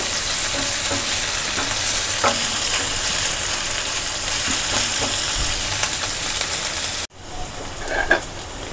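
Chopped ginger stirred and frying in a pan, a steady loud sizzle with scraping stir strokes throughout, briefly cut off near the end before the sizzle resumes.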